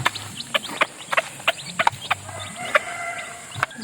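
Hens cluck in short, repeated bursts close by, a busy scatter of calls with a softer background murmur of birds.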